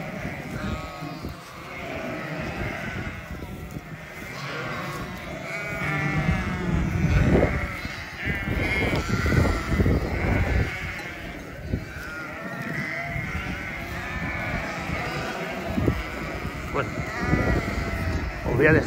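A flock of sheep bleats repeatedly outdoors in the cold on open pasture, calls overlapping near and far, with a person talking at times.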